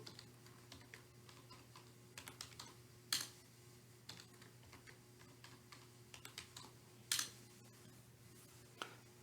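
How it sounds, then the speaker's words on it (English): Fingers type a new username and password on a computer keyboard while installing Ubuntu under WSL 2 on Windows, producing quiet, close, irregular key clicks with a few sharper taps and no talking. "You can create any user you want and put in the password."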